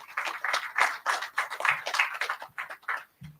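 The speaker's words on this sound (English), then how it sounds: "Please give him a big hand." A small conference audience claps in uneven bursts, close and moderately loud, with no speech, fading after a few seconds.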